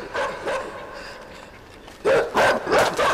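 Dogs bark and lunge in attack in the dark platformer INSIDE, a few sharp barks early, then a louder burst of rapid, aggressive barking close by.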